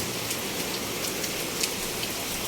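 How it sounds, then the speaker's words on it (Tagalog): Heavy, steady rainfall pours down without a break, a dense even hiss of drops hitting surfaces close by, with a few louder drips standing out and no voices. "Maulan talaga dito sa amin."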